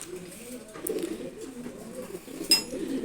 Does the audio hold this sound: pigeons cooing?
yes